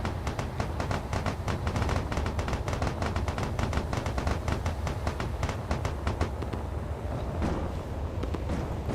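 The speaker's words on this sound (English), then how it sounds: "they got some field mortars out here, which is good for defense" Field mortars and gunfire in the Space Engineers game, a steady rapid stream of loud thumping shots with rumbling wind-like noise underneath, no voices.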